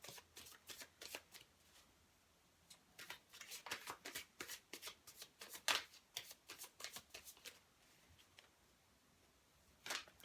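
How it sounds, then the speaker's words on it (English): Mythic Tarot cards being shuffled by hand in quick repeated riffles, a crisp flurry of papery slaps and flutters in bursts with short pauses, close and fairly quiet, no talking. "Just give this a quick shuffle."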